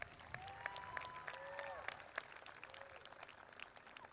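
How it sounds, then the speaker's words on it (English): A high school graduation audience claps in a quiet, distant wash of applause, with voices and whoops mixed in over the clapping. "a round of applause for the Rarick's"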